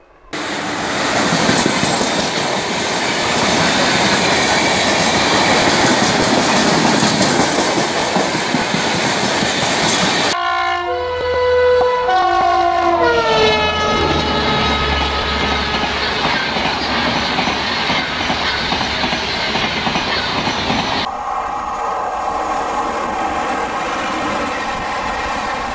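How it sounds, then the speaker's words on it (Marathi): A train runs along the Konkan Railway line, loud and close, with a roaring rumble of wagons, rhythmic wheel clatter and a stretch of squealing, tonal wheel screech midway. "2 महिन्यांपूर्वी या मार्गावरील रेल्वे गाड्या हॉलिडे एक्सप्रेस म्हणून सुरू करण्यात आल्या आहेत"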